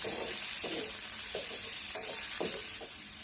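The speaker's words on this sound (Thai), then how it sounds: "ก็ผัดหมูกับกระเทียมให้หมูสุกพอสุกพอเซ็ตตัวค่ะ" Pork stir-fried with garlic in a pan, steady sizzling with about six regular scraping strokes of a spatula spaced under a second apart, close and moderately loud, no voices.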